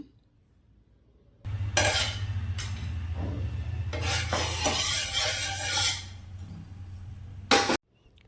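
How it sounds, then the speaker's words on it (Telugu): Oil hitting a hot clay roasting pan gives a steady close sizzle with scraping and rubbing, running several seconds before cutting off abruptly. "వేడి అయింది దానిపైన అయితే కొంచెం లైట్గా అయితే ఆయిల్ వేస్తున్నాను ఇక్కడ"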